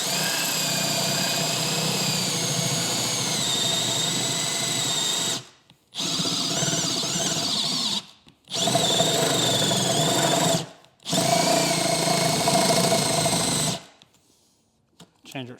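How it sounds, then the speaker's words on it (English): A power drill bores a hole through plastic in several long whirring runs separated by short pauses, loud and close, with a steady high motor whine that cuts off cleanly at the end. "we're going to drill this hole all the way through"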